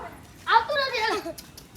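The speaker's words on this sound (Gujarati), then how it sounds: "જો આવી ગયું કૂતરાને" A dog gives a short bark that trails into whimpering yelps, close and fairly loud, lasting about a second over a quiet background.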